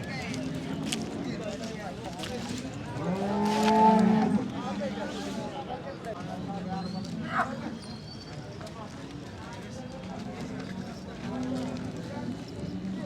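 Cattle at a bustling livestock market in Sangola, with moos rising above a steady din of people talking, one louder low call standing out near the middle.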